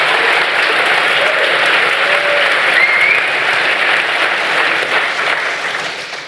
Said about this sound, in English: Richard Dawkins, Stephen, you can applaud.